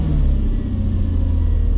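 A Mercedes C55 with an M113 V8 that is running rich and hanging at idle gives a loud, close, deep rumble. The engine holds a steady low drone with a slight swell near the start and no clear sharp rev.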